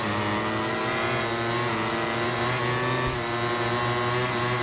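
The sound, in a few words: Ducati motorcycle engine approaching in MotoGP 21 video game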